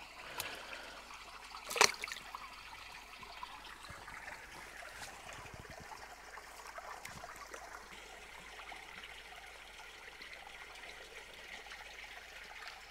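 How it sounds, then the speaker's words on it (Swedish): Water trickles and pours steadily into a water pump's container as it is filled, a thin continuous stream with one brief louder knock near the start, quiet and close with no talking. "Vi ser om vi kan fylla den här med vatten först."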